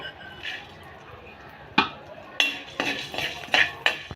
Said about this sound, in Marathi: इथं मी काळी मिरी आणि लवंग एकत्र भाजते